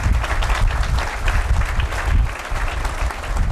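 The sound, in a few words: audience applauding during a speech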